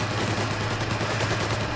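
Gunfire in the video game Mafia, a dense burst of rapid shots forming a continuous crackling barrage, loud and close throughout.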